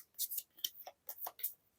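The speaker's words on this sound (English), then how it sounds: "And we'll just shuffle these up" Cards from the Skyrim board game being shuffled by hand, several soft, papery riffles and slides in quick bursts with short pauses between, quiet and close.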